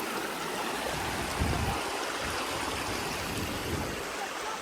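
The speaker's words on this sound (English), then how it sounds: "This is a beautiful river in Moores," River water flowing at Moores, Clarendon, Jamaica, a constant broadband rush and trickle close by, steady and unbroken, with no voices over it.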